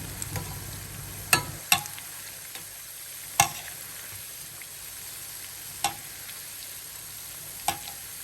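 Keerai paruppu vadai, crisp spinach and lentil fritters, fry in hot oil and get turned over, giving a soft continuous sizzle broken by a few sharp, scattered clinks of a utensil against the pan.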